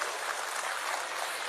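An audience applauding at a university award ceremony, a dense, even wash of clapping heard from a distance, with no voices.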